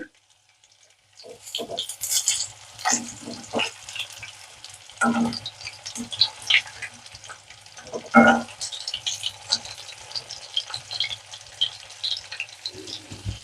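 Fish frying crisply in hot oil on a stove at medium heat, a steady dense sizzle with crackling pops and brief stirring or turning clatter near the mic.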